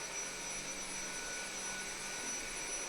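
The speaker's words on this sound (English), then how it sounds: "the noise of the Hoover in the background" A Hoover vacuum cleaner runs steadily in an office, a continuous broadband whoosh holding at an even level for the whole stretch with no voices over it.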